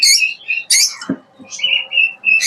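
Parrots at a breeding farm screech in sharp, harsh bursts, several loud close calls separated by short gaps, sounding agitated while nesting and laying eggs.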